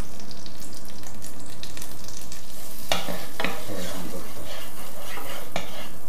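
Minced beef browning in a hot pan for a meat sauce, with a steady sizzle and frequent scraping stirs from a utensil against the pan, close and loud, and a few sharper clatters near the end.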